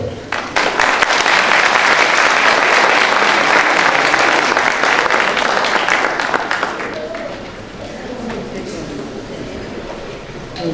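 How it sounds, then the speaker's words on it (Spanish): An audience at an international trade and organic products event applauds a government minister, dense loud clapping that thins out after about seven seconds into a quieter room murmur. "Recibamos con un fuerte aplauso a la señora ministra que pase al podio."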